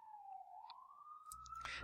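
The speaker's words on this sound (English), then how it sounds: "I apologize for any sirens in the background." A siren wails steadily in the distance, its tone slowly rising, with a burst of closer noise near the end.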